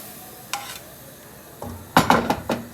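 Cabbage goes into a pan of fried onions, with a faint sizzle under a few sharp clinks and scrapes of a utensil against the pan, the clatter bunched near the end, close and unaccompanied by talk.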